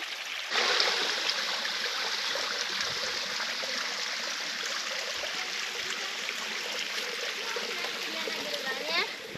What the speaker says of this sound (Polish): Cały czas mijamy takie kaskady, takie malutkie wodospadziki.